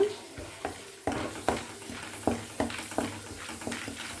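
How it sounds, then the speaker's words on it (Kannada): Chana dal frying in hot oil in a pan, with a spoon stirring and scraping at a steady rhythm. Soft sizzling runs underneath a string of repeated scraping strokes, heard close and fairly quiet. "ಇವಾಗ ನಾನು ಕಡಲೆಬೇಳೆ ಹಾಕ್ಕೊಳ್ತಾ ಇದ್ದೀನಿ. ಸ್ವಲ್ಪ ಇದನ್ನು ಹುರ್ಕೊಳ್ಳೋಣ."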